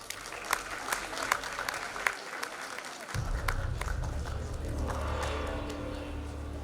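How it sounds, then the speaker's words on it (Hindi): Applause breaks out at an Urdu poetry mushaira in Indore, a crisp scatter of claps over room noise, joined midway by a steady low rumble. "एक बार जोरदार तालियां।"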